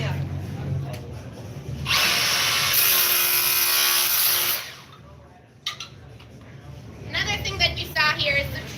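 A Milwaukee power tool fitted with a Plus Lock extension and a tile chisel chips away at floor tile, a harsh chattering burst of about three seconds, then quieter scraping and handling as a person talks.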